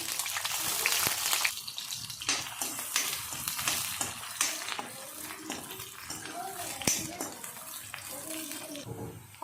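Green chillies and onions dropped into hot oil in a home kitchen, a bright hissing sizzle that bursts loudly at first, then settles into softer crackling and spitting, with a voice talking now and then.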